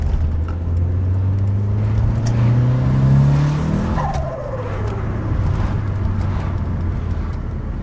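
A car with a freshly forged, rebuilt turbocharged engine accelerating while driving, the engine note rising in pitch, then a sharp turbo flutter or dump valve release as the revs drop, close and loud with no talking.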